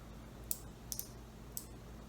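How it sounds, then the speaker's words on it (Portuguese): A Panduit Cat.6 keystone jack snaps into place when pressed, giving four faint, sharp plastic clicks spaced over about a second, close up with quiet background hiss. "Pressiono, eu ouvir alguns cliques e agora está preso."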